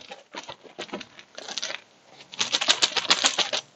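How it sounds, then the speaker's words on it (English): Tokens for the Warp's Edge board game rattle and clack as they are shuffled in a bag, coming in several short bursts of dry clicking, louder near the end, with no talk. "I'm going to give it a good shuffle here."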